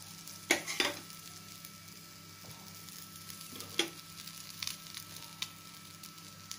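Eggplant slices fry in hot oil, a steady low sizzle broken by a few sharp clacks and scrapes as the pieces are turned, close by with no talking.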